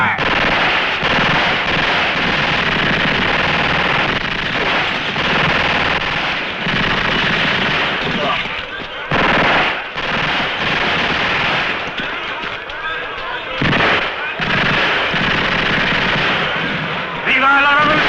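A platoon fires guns in a Western battle, with dense, loud machine gun bursts rattling almost continuously, broken by short gaps and scattered heavier shots, and shouting voices faintly mixed in.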